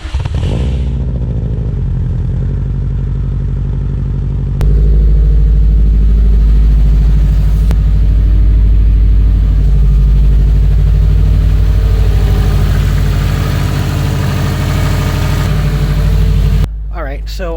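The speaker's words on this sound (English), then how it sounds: "So we'll get the car started and warmed up, and I'll put the GoPro on and we will go for a short drive." A 2004 Subaru WRX STI engine starts and warms up, a loud, close, steady idle with deep low rumble and a rise in level after a few seconds, running continuously until a sudden cut near the end.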